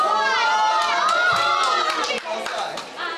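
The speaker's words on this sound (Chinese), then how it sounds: "大声欢呼喊叫" A crowd of people in front of a TV cheers and shouts loudly for their team in an esports world championship final, a dense burst of excited voices that eases off toward the end.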